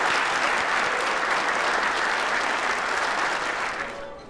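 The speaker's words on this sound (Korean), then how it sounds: "큰 박수 부탁드립니다" A crowd claps loudly and continuously in a congratulatory applause for a company owner, a thick uniform patter that fades out in the final half second.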